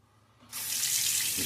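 Tap water suddenly gushing into a sink to rinse a razor, a steady close hissing stream that starts after a quiet moment and runs on evenly.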